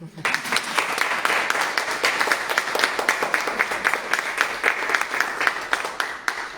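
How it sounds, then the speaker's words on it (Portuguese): Warm round of audience applause for Elizabeth after her personal testimony at a caregivers' event, steady and fairly loud with many individual claps audible throughout, fading in at the start. "eu propunha já uma salva de palmas à Elizabeth"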